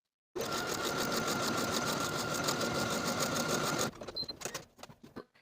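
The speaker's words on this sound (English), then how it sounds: "go back to the sewing machine and sew a vertical buttonhole at the point end of your tab" Sewing machine stitching a vertical buttonhole on a fabric tab, a steady rapid mechanical whir running for several seconds, then stopping into a few scattered clicks and handling sounds.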